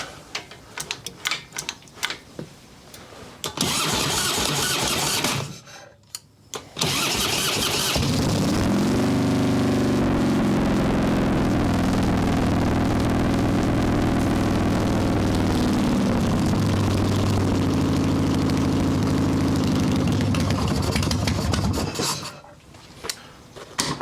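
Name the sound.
'95 Evo Softail motorcycle engine starting and running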